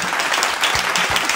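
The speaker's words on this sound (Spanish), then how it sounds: "Muy bien, fuerte el aplauso." A brief burst of audience applause on a Marbella television variety show, dense clapping from a studio crowd with a couple of low thumps.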